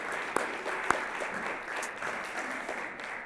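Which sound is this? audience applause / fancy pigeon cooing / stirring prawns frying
audience applause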